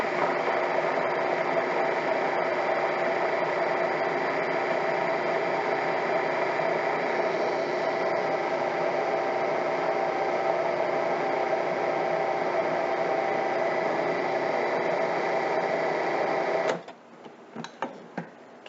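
A kitchen mixer or blender blends butter into lemon pudding cake batter. It makes a steady, loud motor whir that holds for about seventeen seconds, then cuts off, followed by a few light clicks.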